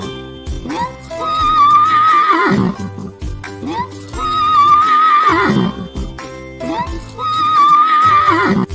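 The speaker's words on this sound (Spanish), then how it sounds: "Caballo." A horse neighs loudly three times in a row, each whinny a long, quavering cry with a shaky falling tail, close and clear with brief pauses between.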